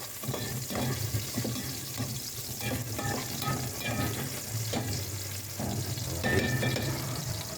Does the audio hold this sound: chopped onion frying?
yes